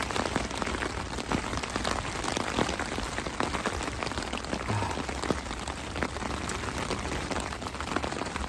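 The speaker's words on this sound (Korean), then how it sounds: "비가 와요." Heavy rain pours onto a backpacking tent during a solo bivouac camp, a dense, close, continuous patter with no voices.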